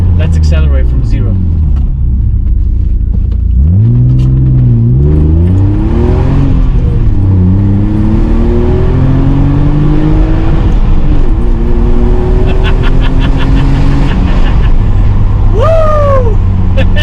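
BMW 525i E34 accelerating from a standstill, with engine and exhaust rising through the gears as pitch climbs and falls at each shift, loud and close from inside the car, while someone talks over parts of it.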